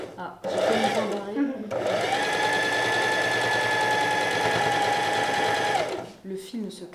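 Sewing machine stitching quilted upcycled clothing fabric, running in a steady loud whir for about five seconds, with brief voices and handling before and after.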